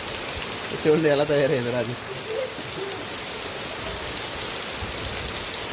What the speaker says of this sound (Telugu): ఈరోజు గాలి లేదు కానీ వర్షం మాత్రం దంచి కొడతా ఉంది